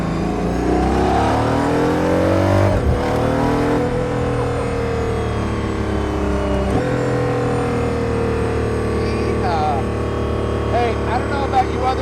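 Aston Martin Valkyrie Spider hypercar driving on snow, its engine droning steadily and loud with shifting pitch and a brief rise, continuous throughout.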